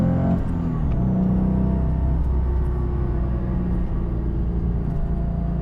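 A Porsche Cayman's 2.7 liter engine rumbles loudly and steadily close by, its tone shifting slightly as it runs, with no voices.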